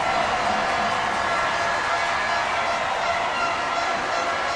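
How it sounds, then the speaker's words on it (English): A crowd at a sitting volleyball match roars and cheers steadily, a dense, loud wash of voices with no breaks. "the noise erupts now. Johan, the MC, working as magic with the crowd"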